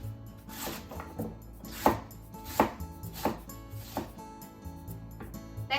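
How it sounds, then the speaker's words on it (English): A knife cuts napa cabbage into thin diagonal strips on a board, about six crisp chops in a steady rhythm, close and clear with no speech. "To reduce the chewiness, cut it into thin diagonal strips."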